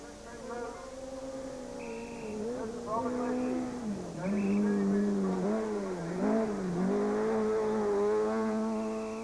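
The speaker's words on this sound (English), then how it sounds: "The throngs of spectators loved every moment of the show as Kuhn swept past them just meters away" A Suzuki S2000 rally car sweeps past spectators just meters away on a mineshaft rally stage, its engine revving loud and close with rising and falling pitch through several gear changes across the whole stretch.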